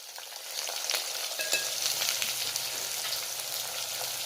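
Onion and pumpkin sizzle steadily in hot oil in a pan, a dense continuous frying hiss with light stirring scrapes, close and moderately loud with no talking.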